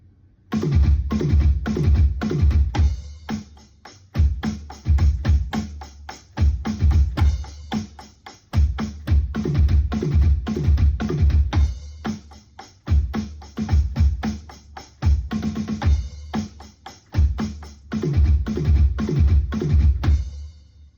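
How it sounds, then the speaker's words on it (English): Fast, repeated drum fills on snare and kick, played loud and continuous in rapid triplet groupings with barely any gaps. "it's a triplet tap, starting with the snare drum and ending with the bass drum"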